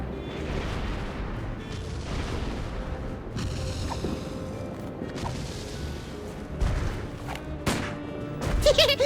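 Gunfire in the video game Sam & Max: The Devil's Playhouse comes as a run of sharp bursts and booming cracks spread over several seconds, some loud and clustered, with a noisy rumble between them.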